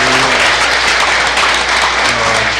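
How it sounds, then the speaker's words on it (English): Sustained audience applause at an evening school board meeting honoring students, a steady wash of many hands clapping throughout with a faint low hum beneath. "Another round of applause for those nice students."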